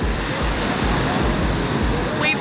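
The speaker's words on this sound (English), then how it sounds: "Waves are crashing everywhere." Ocean waves crashing continuously, a steady broadband wash of surf with rhythmic low swells, close and loud, with no voices.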